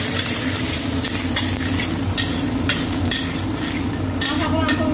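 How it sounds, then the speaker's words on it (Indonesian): Garlic stir-fries in hot oil, a dense steady sizzle with scraping spatula strokes and clinks scattered throughout, close and loud, with no talking. "Sekarang kita oseng bawang putihnya dulu."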